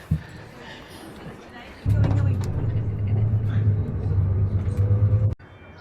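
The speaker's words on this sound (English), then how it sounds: "so this is our bus for today" A tour bus carrying a group of 28 travelers rumbles along the road near Salzburg, Austria, with a steady low engine drone that swells after a soft opening and holds loud until a sudden drop at the end.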